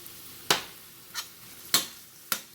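Chili flakes go into chicken and beef burrito meat frying in a pan, followed by four sharp, separate scraping stir strokes over a soft background sizzle.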